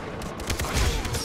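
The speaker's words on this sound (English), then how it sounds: "I think you're meant to burst fire these kind of weapons" Short bursts of gunfire in the video game Far Cry 3, a few quick clustered shots close by, loud and alone.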